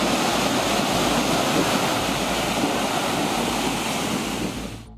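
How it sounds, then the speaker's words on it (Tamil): Rough, storm-driven sea waves churn along the Mullaitivu coast, a steady, loud roar of surf mixed with wind noise on the microphone, continuous throughout and fading only at the very end. "வங்கக்கடலில் நகர்ந்து செல்லும் புயல் காரணமாக முல்லைத்தீவு கடலில் சீற்றம் அதிகரித்து காணப்பட்டுள்ளது."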